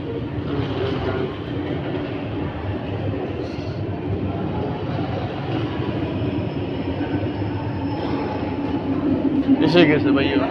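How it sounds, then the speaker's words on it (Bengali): A metro train pulls into a station in Europe with a steady, near rumble and rail noise, and people's voices mix in over it toward the end. "আগে মেট্রো এসে গেছে"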